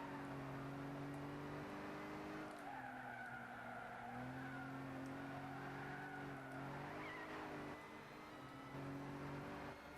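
Race cars in Gran Turismo 6 on Trial Mountain, a steady droning engine note with shifting pitch and tire skid, moderately loud and continuous without talk.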